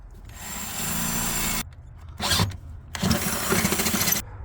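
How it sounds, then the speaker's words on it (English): A Ryobi right angle drill with a metal-specific bit bores a hole in metal on a GMT400 truck, two loud whirring bursts broken by a brief gap, close and with no talk. "So far I got 1 hole drilled"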